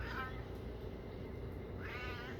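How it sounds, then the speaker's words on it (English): A cat meows twice close by, one short cry at the start and a longer one near the end, with a low background rumble and no clear talk over it. "Look at this cat."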